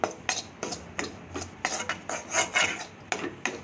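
Moong dal halwa being stirred in a pan, a spoon scraping and clinking against the metal in a quick irregular rhythm of about a dozen strokes, close and clear, no talk.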